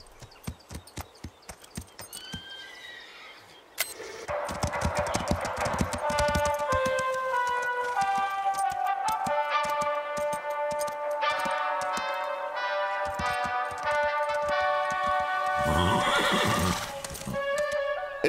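Cartoon horses neighing with several drawn-out whinnies while hooves clip-clop in quick, steady rhythm, set against background music in an animated horse show practice scene.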